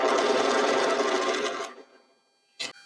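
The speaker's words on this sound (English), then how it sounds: "just going to sew this little tiny seam right here, 5/8 of an inch" Sewing machine stitching a short 5/8-inch seam on a summer dress placket, a steady loud mechanical whir for about a second and a half that winds down, followed by a brief sharp click.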